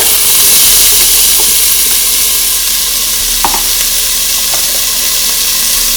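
Red onion and red pepper sizzle loudly in a hot pan, a dense, continuous hiss with a few soft stirring knocks and no voices.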